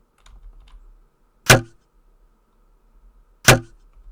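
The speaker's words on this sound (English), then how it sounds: "that's that wooden sound because he's bashing against my two-hander" An enemy's weapon bashing against a two-handed sword held in block in an Unreal Engine RPG, heard as two sharp, hollow wooden knocks about two seconds apart, with faint soft movement sounds between.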